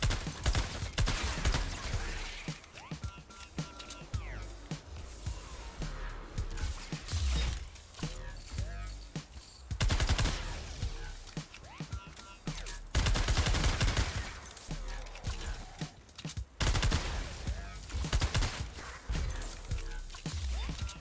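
Rapid weapon fire in the Fortnite Save The World video game comes in dense, repeated bursts with mechanical clatter and brief pauses between volleys, loud and continuous throughout, with a faint voice at times.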